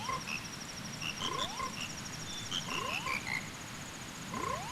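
Frogs croak a rhythmic song in The Legend of Zelda: Majora's Mask, with repeated bubbly rising calls over soft musical tones, moderately loud and without talk.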